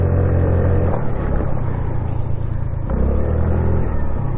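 A Honda Navi motorcycle revs hard while drifting on a snowy road, its loud, steady, close engine drone rising and dipping with throttle changes and sounding without any break.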